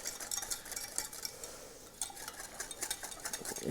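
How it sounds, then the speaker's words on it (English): A whisk beats a thickening mixture in a bowl, a steady run of quick metallic scrapes and light clinks against the bowl, close and fairly soft, with no talking. "I'm just going to let that stream go a little bit faster. And keep whisking."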